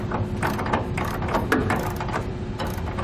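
Ratchet wrench clicks in short back-and-forth bursts as bolts are tightened on a B and W Turnoverball underbed gooseneck trailer hitch installed in a 2018 Chevrolet truck bed, close and moderately loud, with mechanical rattle throughout and no talk.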